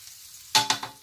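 Food sizzles in a hot wok for a home-cooked dinner, with a quiet lull giving way to three loud close frying bursts as ingredients hit the pan or are stirred, each fading into a crackling hiss.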